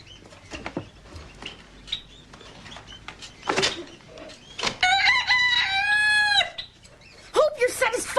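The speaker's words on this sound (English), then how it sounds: "What, like he wouldn't have known if the rooster didn't crow?" Rooster crowing in a full, drawn-out call with clear harmonic pitch, standing out over scattered clatter and a busy indoor background, followed by shorter fowl calls near the end.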